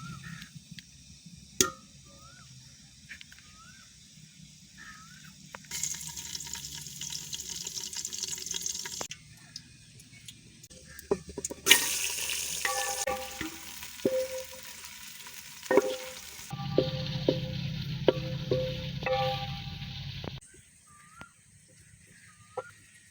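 Onions frying in ghee on a stove, a steady sizzle running through with bursts of louder hissing and stirring, no talk.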